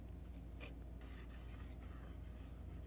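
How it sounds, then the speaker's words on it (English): Eraser rubbing across paper during homework problem work, a series of soft, quiet scratchy strokes in short uneven bursts, close up and alone. "I probably should hit the eraser."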